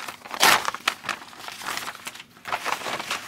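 A slim paper envelope holding an electronic component gets handled and torn open up close, with crisp crinkles and rustles in uneven bursts and a brief lull midway.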